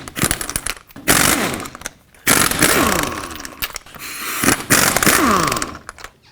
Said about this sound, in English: take off all 5 of your lug nuts with a 21mm socket